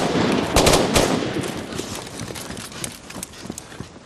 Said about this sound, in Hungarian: Nem halljátok a lövéseket?